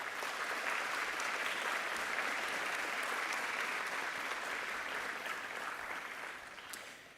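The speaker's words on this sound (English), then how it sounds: "I would ask today's graduates to please give a round of applause and thanks." Graduates at a health sciences and medicine graduation ceremony give a sustained round of applause, a dense, even wash of many hands clapping that holds steady and then begins to taper off toward the end.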